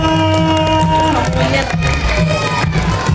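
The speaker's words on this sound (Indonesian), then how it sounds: "dan kembali tepuk tangan yang meriah buat Faya" Loud crowd cheering and clapping over bright music, with excited shouts blending into a continuous roar.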